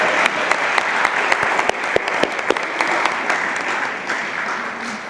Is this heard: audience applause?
yes